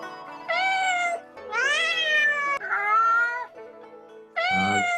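A cat meowing sound effect from GarageBand: four drawn-out, loud, close meows with rising and falling pitch, separated by short pauses and no talk.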